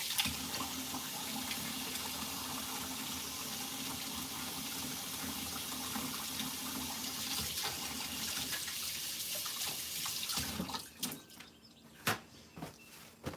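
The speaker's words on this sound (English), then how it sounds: "I'm gonna wash my hands again." Hands are washed under a running tap, water streaming steadily for about ten seconds before the flow stops and a few faint clinks and rustles follow.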